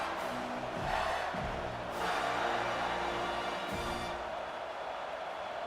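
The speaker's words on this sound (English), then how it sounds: "LSU Death Valley crowd erupted." A stadium crowd at LSU's Death Valley in the College Football 25 video game roars and swells in a continuous wash of cheering, rising in waves with no clear pause.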